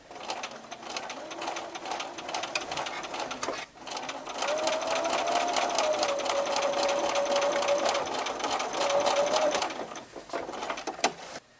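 A sewing machine stitches down a fold-over quilt binding with a steady, fast mechanical whir. It pauses briefly at the corner pivot, then resumes at a constant pace, close and moderately loud.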